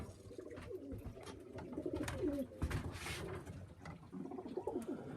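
Racing pigeons coo steadily in a low, throaty murmur, several birds overlapping continuously at close range with faint rustling in the background.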